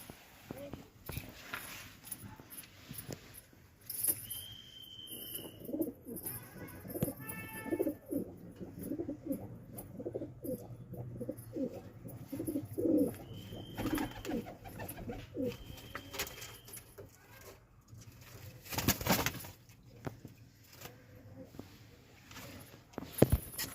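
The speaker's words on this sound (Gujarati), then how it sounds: "જોઈ લે આ કબૂતર" Pigeons coo in low, repeated murmurs over rustling and handling noises, while a person talks nearby on and off.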